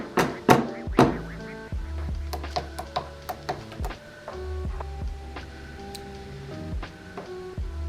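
An HTVRONT Auto Heat Press 2 is tipped onto its side, giving a series of heavy thunks, knocks and scraping clicks of the machine's body and packaging, close and fairly loud, without talk.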